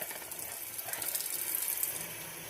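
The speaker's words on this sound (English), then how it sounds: "Now what I'm also going to do is add a little bit of water." Water pours steadily into a sizzling pan of chicken and broccoli stir fry, a continuous hissing splash heard up close with no voices.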